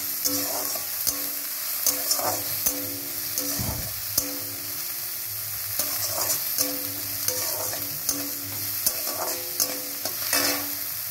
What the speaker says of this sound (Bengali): হালকা লালচে হবে পেঁয়াজটা। এখানে তেলটা বেশি দেওয়ার দরকার নেই।